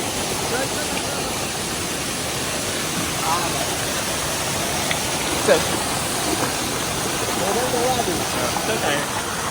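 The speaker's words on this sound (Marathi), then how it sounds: "त्या साईडला पूर्ण धबधबा येणार आहे" Steady broadband roar of a monsoon waterfall in Lanja, Ratnagiri in the Konkan region, heard nearby and continuous throughout, with people speaking briefly over it while walking on slippery ground.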